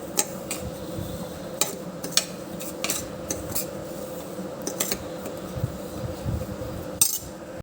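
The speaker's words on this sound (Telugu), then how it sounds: "కొంచెం ఆయిల్ వేసి స్లోగా వేపుతూ ఉండాలి, కలర్ చేంజ్ అయ్యే వరకు." A spatula scrapes and taps steadily against a pan while food fries slowly in a little oil over a low flame. The clicks are close and irregular and sit over a quiet background hiss.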